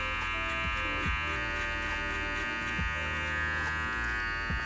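Electric hair clippers buzzing steadily at close range during a taper fade, the lever opened and the blade tilted; a constant motor hum runs throughout with small shifts in tone as the clipper moves through the hair.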